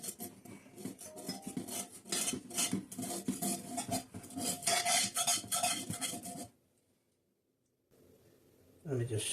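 A knife scrapes sticky, gummy residue around the rim of a cast iron pan, giving a steady run of rasping, clicking metal-on-metal scrapes close up, then a brief near-silence before scraping resumes.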